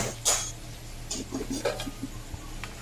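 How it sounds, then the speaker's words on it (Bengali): A plate set down as a lid over a cooking pan of prawn curry on a gas stove, giving a light ceramic clink, then a few softer clinks and taps close by, with quiet room noise around. "তো আমি এখানে থালা চাপা দিয়ে ঢাকা দিয়ে দিলাম।"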